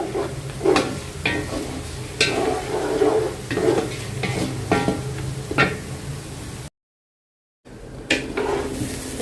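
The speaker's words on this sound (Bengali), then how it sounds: "পোলাও চালটা হচ্ছে ভালো মতো কষাই নিছি" About three and a half kilos of polao rice frying in mixed oil and ghee in a large pot, stirred with a series of loud scraping and knocking strokes over a steady sizzle, broken by a brief silent gap.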